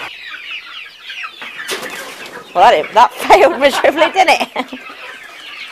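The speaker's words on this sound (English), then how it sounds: "Do you want to buy a chicken?" Chickens on a farm cluck and squawk in a busy, overlapping cluster, loud and close, with a person talking over the birds.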